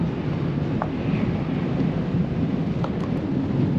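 Strong wind at about 28 miles an hour roars steadily through a snowstorm around an RV van, a dense continuous rumble buffeting the microphone throughout.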